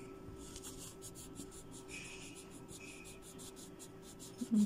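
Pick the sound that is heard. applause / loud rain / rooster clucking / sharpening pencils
sharpening pencils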